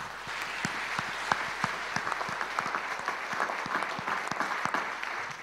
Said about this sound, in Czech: abychom jej tam doprovodili potleskem